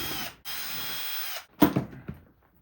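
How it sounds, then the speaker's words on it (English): A power driver backs out screws from plastic seat trim on an Acura TL, giving a steady whirring run, a short pause, then a brief ratcheting burst before fading. "Take off these screws up top here."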